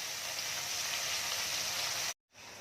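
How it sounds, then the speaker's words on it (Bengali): Katla fish frying in hot oil, a steady bright sizzle at a fairly low level, cutting out abruptly near the end before faintly resuming. "হেলমেট লাগিয়ে মাছ ভাজা চলছে"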